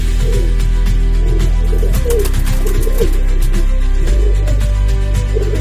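Pigeons coo repeatedly in low, soft, throaty rolls, several birds overlapping against a steady hum, with occasional faint chirps.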